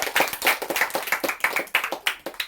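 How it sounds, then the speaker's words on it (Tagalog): A church congregation claps for the Lord during a Filipino service, with quick rhythmic hand claps, fairly close and lively, in a steady pulsing pattern. "Palakpak pa para sa Panginoon."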